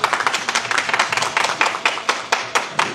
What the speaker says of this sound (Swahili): Makofi kwa Mheshimiwa Rais.